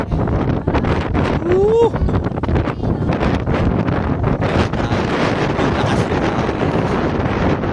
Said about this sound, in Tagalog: At pati yung fog sabay ng malamig na hangin.